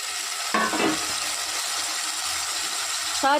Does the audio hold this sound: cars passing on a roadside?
no